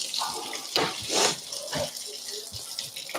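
Tap water splashing into a kitchen sink while food is rinsed for a chili cook-off, a close, uneven hiss with louder gushes as the stream is disturbed, no talking over it.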